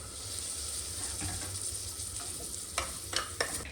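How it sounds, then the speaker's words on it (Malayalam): Sliced onions sauté in a pan with added masala spice powders. There is a soft, steady sizzle, and a few sharp scraping stir strokes come near the end, quiet and close. "ഇനി ഇതിലേക്ക് നമുക്ക് മസാലപ്പൊടികൾ ചേർത്ത് കൊടുക്കാം"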